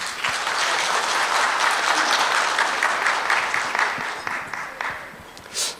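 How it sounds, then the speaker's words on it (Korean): Welcoming applause at a Korean business CEO forum as the district mayor and an economic council chairman come up to the stage, a full steady round of clapping that thins out toward the end. "환영의 박수 부탁드리겠습니다."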